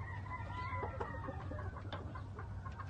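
An old Kelso rooster clucks softly and faintly in a farm setting, a few short broken calls over a low steady hum.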